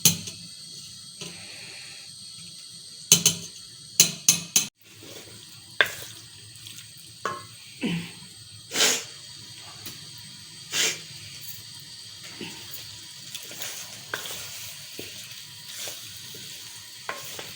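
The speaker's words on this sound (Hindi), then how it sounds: "मैं अब इनको पानी से निथार कर लाती हूँ, छान कर" Boiled spaghetti noodles are drained through a strainer in a kitchen, with water splashing and pouring in uneven bursts, sharp clatters of the strainer, and quieter trickling as the draining tails off.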